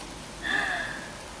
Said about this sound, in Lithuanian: kad lyja tikriausiai